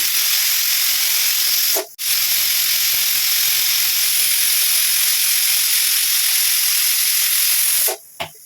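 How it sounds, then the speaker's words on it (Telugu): A pressure cooker cooking mushroom rice hisses loudly and steadily as it releases steam, with two short breaks where the whistle cuts off before the hiss resumes. "కుక్కర్ మూత పెట్టి 2 విజిల్స్ వస్తే సరిపోతుందండి"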